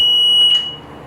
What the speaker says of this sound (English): So, your alarm's going off in the laundry room.